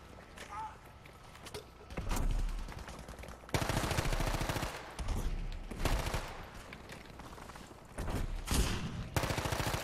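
Bursts of gunfire in Battlefield 5, including shotgun blasts, come in several loud clusters over roughly ten seconds, with a player's voice talking over the action.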